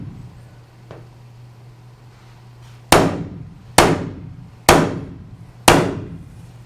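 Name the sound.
center punch tapped into metal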